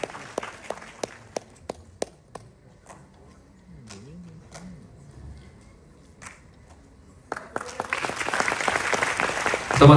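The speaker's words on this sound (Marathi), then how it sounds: "टाळ्या जोरदार झाल्या पाहिजे निवेदिता मॅमसाठी" Audience applause at an award ceremony, with scattered sharp claps early on, a quieter stretch in the middle and then a loud, dense burst of clapping near the end.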